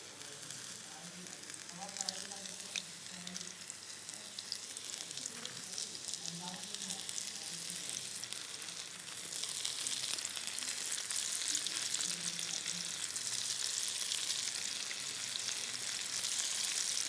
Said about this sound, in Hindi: फ्लेम मैंने अब बिल्कुल स्लो कर दी है। और इस तरह हम एक एक करके अपने जो चिकन थ्रेड्स हैं ये डालते जाएंगे।